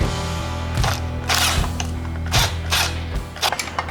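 Bolts come off a 1954 Chevy transmission in a garage, with a series of metallic ratcheting clicks and clanks in an irregular rhythm over a steady low hum.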